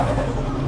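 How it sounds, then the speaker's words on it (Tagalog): A turbocharged 2014 Toyota Hilux Vigo engine drones steadily for a brief moment, loud and close, with a low rumbling tone and no voices. "Narinig ko yung turbo sound."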